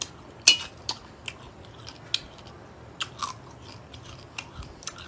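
Crunchy bites and chewing of spicy Thai tamarind salad with crab, a sharp loud crunch followed by scattered softer chews and crackles at irregular intervals, close up with no talking.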